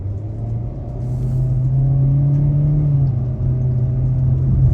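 A 2023 Kia Seltos LX AWD accelerates at about a third throttle, its engine rising in a steady, close drone that climbs in pitch before settling, with road rumble underneath.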